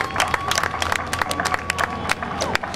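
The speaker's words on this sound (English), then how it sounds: "Give them a round of applause." An audience at the 2010 NAS Oceana Airshow breaks into applause for Pearl Harbor survivors. The clapping is dense and lively, with scattered cheers and crowd murmur, and it rolls on steadily throughout.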